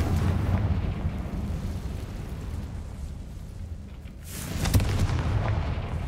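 A Confringo fire spell in the Hogwarts Legacy video game bursts as a single loud, rumbling blast after a stretch of low, steady game ambience.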